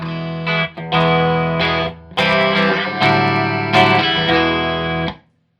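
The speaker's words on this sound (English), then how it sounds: "Now we're in the high gain input. We are still on the Stratocaster with single coil pickup." Distorted electric guitar chords from a single-coil Stratocaster through a 1993 Peavey 5150 tube amp's high-gain input ring out loud and saturated, several struck and sustained in sequence before cutting to silence.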